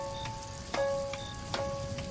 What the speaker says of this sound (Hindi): रिक्शा चलने के कुछ ही समय बाद ही तेज बारिश शुरू हो जाती है।